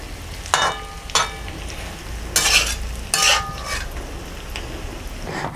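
Stuffed bitter gourds frying on a flat griddle pan, with a soft continuous sizzle broken by several sharp, bright bursts of spatter and stirring scrapes.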